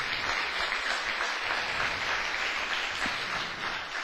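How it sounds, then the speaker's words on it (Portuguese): Applause from a church congregation clapping for Jesus, a dense, steady wash of many hands that fills the space without a break and carries on at an even level throughout. "Agora tu pode dar uma salva de palmas para o Senhor Jesus."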